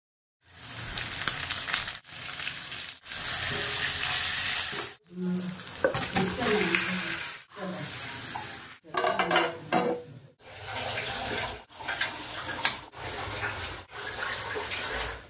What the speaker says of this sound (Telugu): ఇంకొక పక్క స్టవ్ మీద నేను సెకండ్ రెసిపీ చికెన్ ఫ్రై చేస్తున్నాను